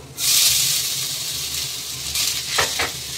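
Grated raw potato drops into hot oil with fried grated ginger, setting off a loud, steady sizzle that stays close and continuous, with a few light utensil knocks near the end.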